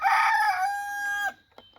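A rooster crows loudly and close by in one long drawn-out call, a white hen nearby, ending with a couple of faint clucks as the crow trails off.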